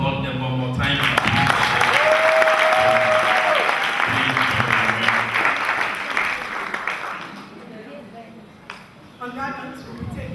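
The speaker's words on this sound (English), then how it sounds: "Too much to ask that you applaud them one more time." An audience at a finals challenge event applauds loudly for several seconds, the clapping then fading as a speaker talks over it through a public address system.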